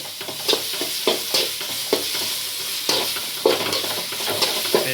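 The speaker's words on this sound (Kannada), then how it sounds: "ಪೇಸ್ಟ್ ಹಾಕ್ಕೊಂಡು ಇದನ್ನು ಸ್ವಲ್ಪ ರೋಸ್ಟ್ ಮಾಡ್ಕೊಳ್ಳಿ." Onion and ginger-garlic paste roasting in a pan for tomato gojju, with a steady sizzle and regular scraping stirs from a spatula, close and clear with no talk.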